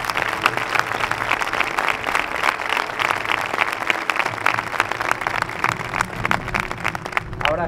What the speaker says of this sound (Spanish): me gustaría que esta plaza ahora mismo les diera un aplauso a todos los colaboradores del movimiento